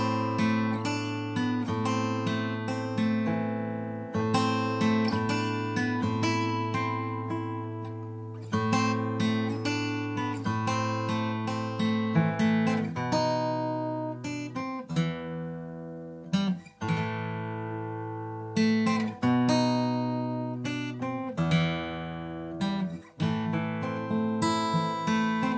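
Closing line of a main theme played fingerstyle on acoustic guitar, a steady stream of plucked notes and ringing chords, near and full, unbroken by speech.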